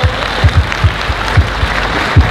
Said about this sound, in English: Clap your hands for Bo!